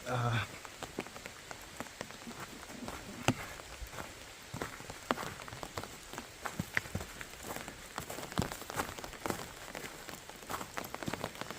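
Rain falls on a backpacking campsite in the Allegheny National Forest, a steady patter of drops with sharper ticks of individual hits, close and fairly faint throughout.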